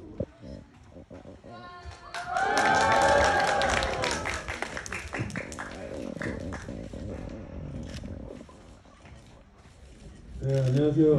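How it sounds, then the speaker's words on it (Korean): Cinema audience at a Korean film stage greeting for the movie Miracle applauding and cheering loudly, with high excited shouts over the clapping. The applause swells, eases, then rises again near the end. "큰 박수로 맞아주세요."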